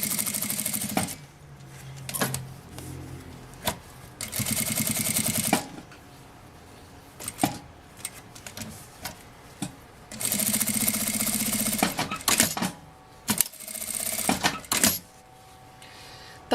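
A sewing machine stitches around the edge of fabric in repeated loud, close whirring runs of a few seconds each, broken by pauses and clicks.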